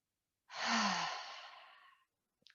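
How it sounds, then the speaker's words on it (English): A single slow exhale out through the mouth during a yoga breathing exercise, a soft breathy rush lasting about a second and a half that fades gradually, close and quiet, followed by a faint small click. "You can breathe in through the nose and out through the mouth"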